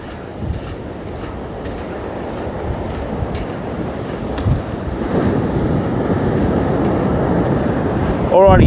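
Surf rolling onto the beach at Kalbarri, Western Australia, a steady roar of breaking waves some distance off, growing louder toward the end, with wind buffeting the microphone.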